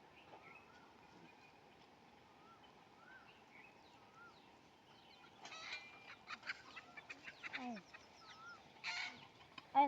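A rooster clucks and calls in bursts at a waterside camp, soft and scattered at first and then louder and more frequent toward the end, with faint background chatter.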